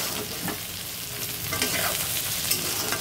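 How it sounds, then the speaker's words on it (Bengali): Green banana (plantain) fries in a pan with a steady, close sizzle and occasional scrapes of stirring throughout, and no one speaks. "কাঁচকলা ভাজা হচ্ছে এবার"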